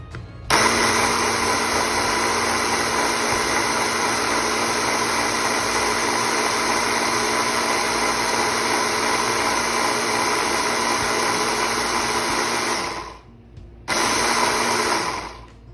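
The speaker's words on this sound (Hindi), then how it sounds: "और फिर करेंगे हम इसको फर्दर ब्लेंड।" Electric blender running continuously on mango puree with sugar, a loud steady motor whir that cuts out briefly near the end and then starts again, close with no speech.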